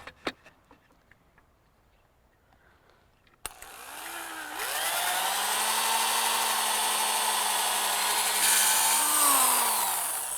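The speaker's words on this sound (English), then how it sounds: "we're ready to pre-drill the holes for our screws" A power drill pre-drills screw holes in a wooden frame, starting with a sharp click after near silence, then spinning up into a loud, steady whine that dips slightly near the end.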